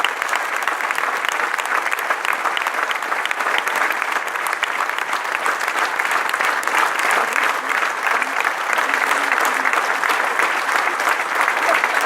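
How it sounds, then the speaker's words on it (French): A large crowd at a UNESCO celebration in Grasse claps loudly and continuously, a dense, sustained wall of applause with no break. "Donc les applaudissements plus forts que ça."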